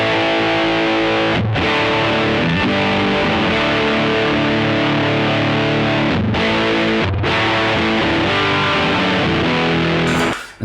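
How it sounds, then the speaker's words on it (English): An electric guitar plays through a TC Electronic Nova Drive pedal set to full distortion, Rat-style and edging toward fuzz, loud sustained chords ringing with a couple of brief breaks before cutting off at the end. "Then you can go to full on distortion."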